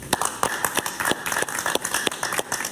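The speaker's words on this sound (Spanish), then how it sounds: "yo pido un aplauso para él" Studio audience clapping for Juan Carlos Nieto Quintero on a talk show, a few distinct claps in rhythmic succession, sharp and close, steady throughout.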